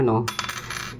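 A small gold ring drops onto a hard surface with a bright, ringing clink, then a quick rattle of settling bounces that fades away.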